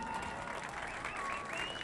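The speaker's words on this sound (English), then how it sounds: "Applaudissements pour Florian Jalin." Crowd applause for a named guest at a Tour de Romandie women's cycling stage finish in Lyon, a steady dense clatter of clapping heard at a distance with faint whistles on top.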